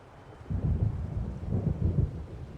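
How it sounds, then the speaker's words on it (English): Thunder from an approaching storm in the video game Alan Wake Remastered rumbles low and heavy, rolling in uneven waves over a steady hiss of wind and rain. "It seems there's a storm coming."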